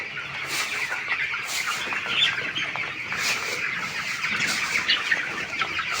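Broiler chickens cluck and call inside a poultry shed, with repeated short clucks over a busy flock murmur, moderately close and continuous, and no one speaking.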